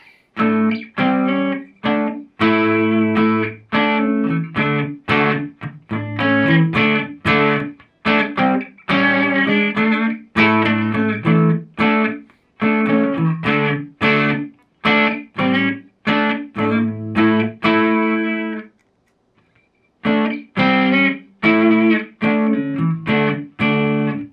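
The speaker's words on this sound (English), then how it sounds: "let's try them with a little bit of crunch on the amp" Electric guitar on the bridge pickup through an amp set to crunch distortion, a steady run of loud strummed chords and riffs with short gaps, gritty and sustained, played alone without talk.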